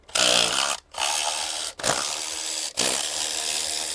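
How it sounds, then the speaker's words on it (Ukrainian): An electric screwdriver whirs loudly in three sustained bursts with brief pauses between them, working on a Karcher K4 Compact pressure washer up close. "Спробуємо викруткою електричною."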